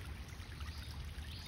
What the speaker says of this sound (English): all the water that's flowing on the road